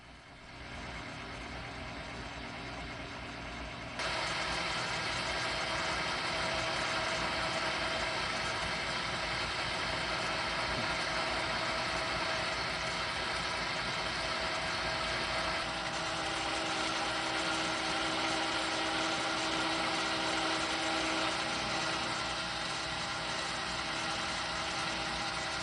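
A metal lathe runs steadily while turning a piece of 4140 steel, a continuous mechanical hum and whine that grows louder after a few seconds and holds for the rest of the clip.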